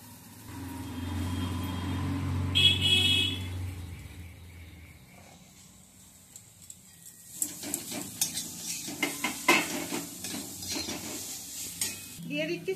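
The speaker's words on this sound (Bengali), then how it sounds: "এবার আমি দিয়ে দিচ্ছি মটরশুঁটি সেদ্ধ করে রেখেছি সেটা।" Boiled peas go into a hot pan with spices. A low rumbling sizzle comes first, then a quiet pause, then a run of close clinks and scrapes from a utensil stirring against the pan over a soft sizzle.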